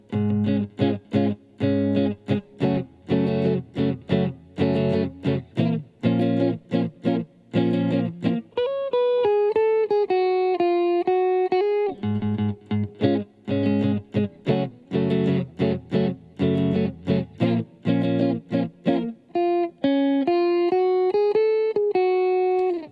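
An electric guitar plays gospel chords clean, without distortion, in a rhythmic chopping pattern of short, sharp stabs that alternates with sustained, ringing chord passages.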